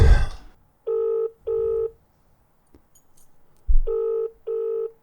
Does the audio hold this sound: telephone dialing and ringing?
yes